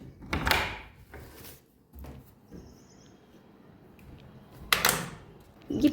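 A door in a rented home is handled with a few rustling bumps and clicks, louder scraping bursts at the start and again near the end, and quiet gaps between.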